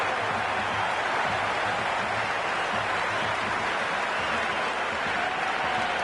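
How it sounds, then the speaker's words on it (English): A cricket crowd at the ground keeps up a dense, continuous roar of cheering and applause, broad and steady, with a voice faintly mixed in. "The crowd is electric right now."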